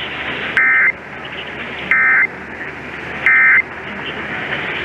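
Three identical Emergency Alert System attention tones from an Iowa monthly EAS test, each a steady electronic buzz lasting about a third of a second, evenly spaced over a low hum of broadcast background.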